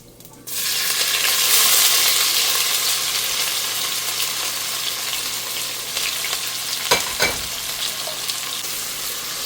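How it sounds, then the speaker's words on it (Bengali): A generous heap of chopped onions hits hot oil with fried chilli and cumin for a Bangladeshi drumstick lentil dal, bursting into a loud sizzle that settles into a steady close hiss, with a few stirring scrapes later. "এখানে পেঁয়াজ ভাজা হচ্ছে"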